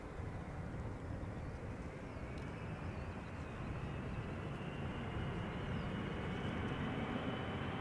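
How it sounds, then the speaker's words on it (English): A 22-year-old United Airlines Boeing 777-200 arriving from San Francisco, a loud, steady broadband jet roar that holds and slowly swells throughout, heard alone with no talk. "22 years old, 777-200, arriving from San Francisco"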